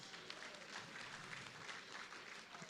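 Steady applause from an audience at a Miss World Nigeria pageant show, honouring sponsors; continuous, moderately distant clapping filling the space without pause.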